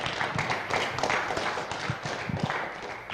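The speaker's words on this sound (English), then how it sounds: "just another massive round of applause, please, for our top three championship winning drivers" Crowd applause for the top three championship-winning drivers at a racing season round in Indianapolis, a dense wash of clapping with a few sharper thuds, steady and fairly close throughout.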